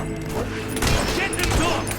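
A burst of gunfire from the video game Fable 3 rattles loudly for about two seconds, with shouted voices mixed in.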